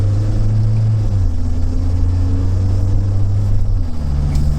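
A Mahindra Scorpio-N diesel automatic SUV accelerating in city traffic, heard from inside the cabin as a steady, loud low engine drone whose pitch climbs and then shifts as it changes gear.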